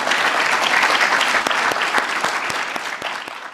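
Loud, steady applause from an audience at a White House mentorship and leadership graduation event honoring young people, with a few sharper individual claps standing out near the end.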